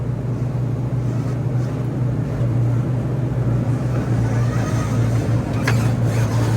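A flood-damaged Ford F150's engine runs nearby, a steady low droning hum with a constant tonal rumble and faint background noise, with no speech over it.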